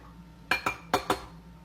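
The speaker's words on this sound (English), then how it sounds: "We're going to mix in some chopped nuts." Chopped almonds, pistachios and cashews being stirred into bread halwa in a pan, heard as four quick, close metallic clinks of a spoon against the pot in two pairs, otherwise quiet.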